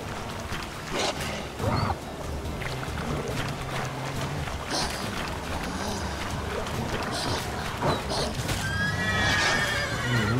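A horse whinnies loudly several times over scattered clip-clop hoofbeats and rustling game-like background noise in The Witcher 3: Wild Hunt on PC, with a long neigh near the end.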